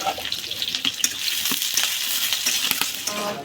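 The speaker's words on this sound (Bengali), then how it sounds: "কড়া গরম হয়ে গেছে, তেল দিব। আমি পেঁয়াজ দিয়ে দিচ্ছি।" Onions dropped into hot oil in a wok over a village clay stove, a loud close sizzle with repeated sharp clicks and scrapes of a spatula against the metal.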